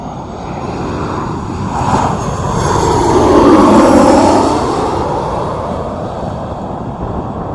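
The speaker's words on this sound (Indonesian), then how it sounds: "Jadi memang pesawatnya itu kalau pas lagi turun itu suaranya kencang sekali." A landing airplane at the end of the runway at Sultan Hasanuddin airport, Maros, Makassar, gives a loud, broad roaring rumble that swells toward the middle and then slowly fades while staying strong.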